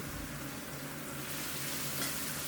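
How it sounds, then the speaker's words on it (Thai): Chilies, including young green peppercorns and yellow and red spur chilies, are stir-fried with sauce in a pan for a spicy canned fish dish, giving a steady, close, even sizzle with no pauses. "เราจะผัดทุกอย่างจนครบดีเรียบร้อยก่อนนะครับ"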